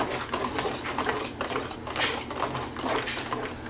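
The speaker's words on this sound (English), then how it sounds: "And then I get my fork, mix this concoction up." A fork stirring OxiClean cleaning solution inside a container gives quick, rhythmic scraping clinks and light splashy taps, close up and steady throughout with no talking.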